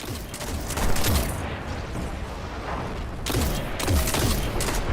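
A grenade blast in the shooter game Destiny sounds amid a rolling barrage of booms and gunfire, loud and continuous, with a fresh burst of explosions near the end.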